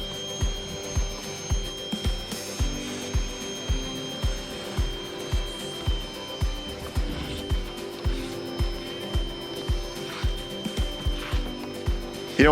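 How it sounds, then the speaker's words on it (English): Teak wood on a boat is sanded by hand in steady, rhythmic back-and-forth scraping strokes, close and moderately loud, repeating at a regular pace against a faint constant hum. "it's just sanding it down until you start seeing a little bit of color"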